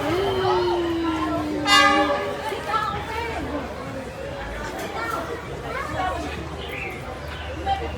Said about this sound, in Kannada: ಆ ಟ್ರೈನ್ ಏನಿದೆಯಲ್ಲ ಆ ಟ್ರೈನ್ ಬರ್ತಾ ಇದೆ